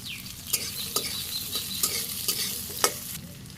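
Chopped ash gourd, onion and green chilies sizzle steadily in a pan while a utensil stirs them, giving several sharp, close scrapes and taps over a constant hiss.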